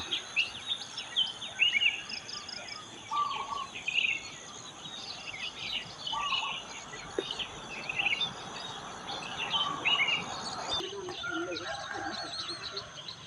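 Scattered bird calls and chirps ring out over a soft hiss of insects in open morning countryside in Chae Hom, Lampang, Thailand, faint and continuous.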